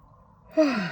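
A single quiet yawn, a soft breathy exhale that slides downward in pitch and lasts under half a second, heard close and alone.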